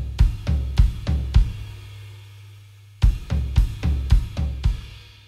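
A drum fill of sixteenth-note triplets on crash cymbal, floor tom and kick drum plays twice, each a quick run of about five heavy, booming strikes with washy crash ringing between groups.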